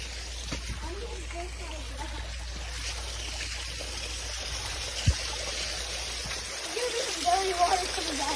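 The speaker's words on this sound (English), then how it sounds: "So the water's coming down." Water running down a river waterfall, a steady moderate rush with occasional splashes, heard alone and slightly distant.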